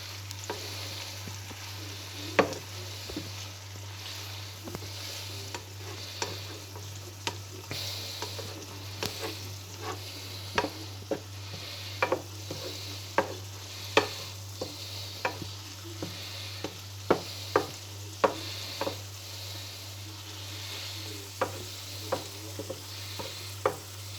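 Chicken and rice fry in a skillet under steady soft sizzling, broken by repeated scraping knocks of a utensil stirring the pan, with a low constant hum underneath.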